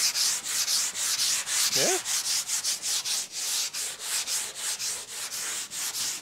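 80-grit sandpaper scrubs over body filler on a car panel in quick, steady back-and-forth strokes, close and rhythmic throughout, with a short vocal murmur partway through.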